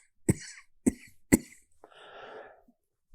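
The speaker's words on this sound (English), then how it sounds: "It's just this damn dry cough" A man with Covid gives three sharp, harsh dry coughs, spaced evenly and heard up close. A longer raspy breath or throat-clearing sound follows them.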